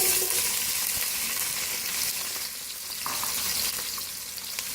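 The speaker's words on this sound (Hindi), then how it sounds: "ऑयल हमारा गर्म हो चुका है, उसमें प्याज शामिल करेंगे।" Steady, close sizzling of onions frying in hot oil for chicken yakhni pulao, a continuous crackle with occasional soft stirring, no voices.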